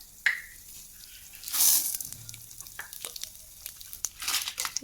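Coconut idli podi ingredients go into hot sesame oil in a kadai, giving a brief burst of sizzling and crackling followed by scattered close crinkly frying noises and faint stirring, with no talk.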